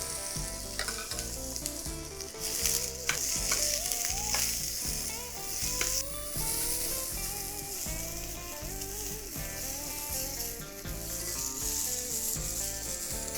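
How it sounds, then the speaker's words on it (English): Asparagus sizzles and crackles loudly in a smoking-hot oiled pan, with steady frying hiss and occasional scraping and stirring, backed by soft rhythmic music. "Okay, pan smoking, asparagus in."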